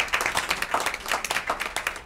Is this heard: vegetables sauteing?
no